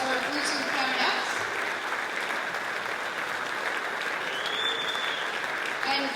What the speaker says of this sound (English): Round of applause for our flutes and clarinets.